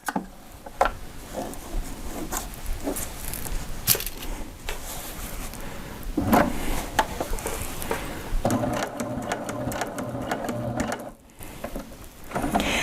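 A home sewing machine stitches a reversible placemat in steady mechanical runs, loud and close, with clicking and whirring and short pauses between bursts of stitching.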